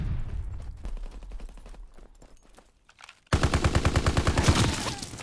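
Rapid automatic gunfire in Call of Duty: WWII, starting as faint distant bursts, then erupting into a loud, close, sustained rattle of machine-gun shots.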